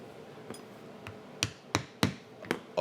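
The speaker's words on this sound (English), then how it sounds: "take an awl and follow through those holes" Awl pushed through pre-punched stitching holes in leather for a satchel bag, giving sharp distinct taps and pokes, about eight of them, irregular at first then quicker and louder, close up in a quiet room.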